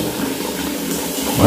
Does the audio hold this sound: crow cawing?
no